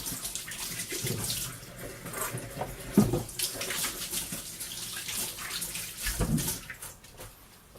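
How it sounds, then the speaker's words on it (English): Hands are washed under a running kitchen tap, a steady gush of water with splashing and rubbing swells, close by and moderately loud with no talk. "Wash my hands quickly."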